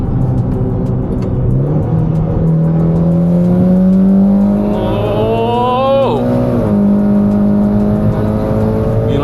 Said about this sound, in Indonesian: Di atas 7000 nih mobilnya masih mau terus loh powernya loh.